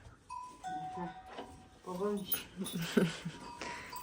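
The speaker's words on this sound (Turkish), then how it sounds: "İneklerin hepsinde çan var" Cowbells on cows clank and ring intermittently in a village, under nearby people talking.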